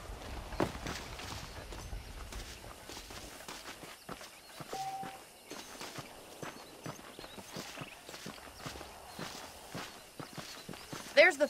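Saddled horses walking in a Western setting in Red Dead Redemption, hooves clip-clopping in a steady repeated rhythm throughout, moderately close over ambient game background.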